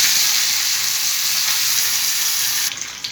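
Curry leaves and chillies hit hot tempering oil with mustard seeds, a loud dense hiss that holds steady then drops sharply into fainter spitting near the end.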